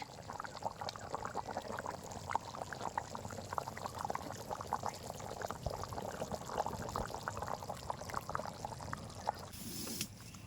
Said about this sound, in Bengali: এ দেখুন আমার মাংসটা ফুটে গেছে, কি সুন্দর ফুটছে।